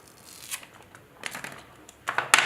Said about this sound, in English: Let me just peel off the plastic.